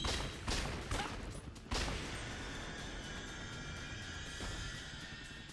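Gunfire against zombies in the video game Yakuza Dead Souls: a few sharp shots early on ring out over a steady, noisy din, then fade into continuous background roar.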